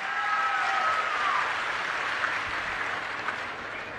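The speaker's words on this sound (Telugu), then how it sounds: "మంచి ప్రభుత్వం అయితే గట్టిగా చప్పట్లు కూడా చెప్పండి" A crowd at a Telugu political rally in Peddapuram, addressed by Chandrababu Naidu, breaks into applause: a dense, steady wash of clapping that holds for several seconds and eases slightly toward the end.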